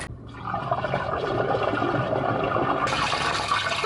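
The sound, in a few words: water flowing through a drain on site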